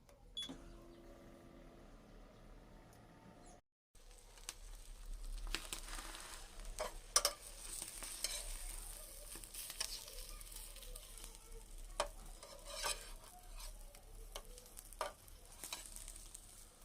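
Bread warming in a pan on an induction cooktop gives a soft, faint, continuous sizzle with occasional light scrapes and taps after a brief quiet gap at the start.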